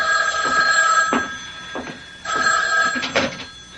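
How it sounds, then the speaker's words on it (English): An old-style telephone bell rings in two loud, close bursts of rattling ringing separated by a short pause, with no voices over it. "the phone rang."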